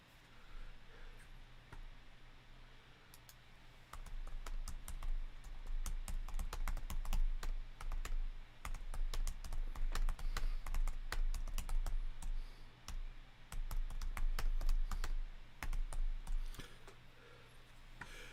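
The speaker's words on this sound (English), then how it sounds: "I could hear you typing." Rapid clicking of computer keyboard keys during a live online New Year's Eve chat, with bursts of typing and short pauses, fairly close and steady, over a low hum and no speech.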